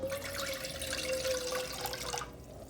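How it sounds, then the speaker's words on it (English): Water poured into a pan of mushroom risotto, a steady close splash and trickle lasting a couple of seconds before cutting off, with no talk. "So I'm going to add water"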